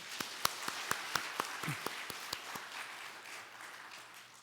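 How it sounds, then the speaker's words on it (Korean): Church congregation clapping during a Wednesday evening service, a spaced handful of sharp individual claps at first that thin out and fade, fairly faint and distant in a quiet room. "오늘 특송 잘해 주신 우리 일목장 분들께 우리 한번 박수 한번 칠까요?"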